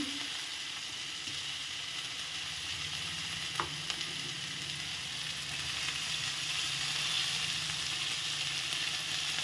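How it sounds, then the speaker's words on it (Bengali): Chopped vegetables fry in hot oil for a paneer dish, giving a steady, soft, even sizzle with a couple of faint clinks partway through. No one speaks. "তো আমি এক এক করে গরম তেলের মধ্যে এগুলো সব দিয়ে দেবো, ভেজে নেব আর কি।"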